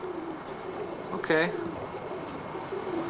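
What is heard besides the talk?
roller pigeons cooing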